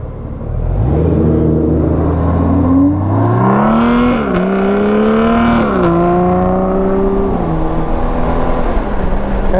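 A 2018 Honda Goldwing motorcycle engine pulls hard, its loud, close drone climbing steadily in pitch, dipping briefly at a couple of gear changes, then rising again and holding a strong whir.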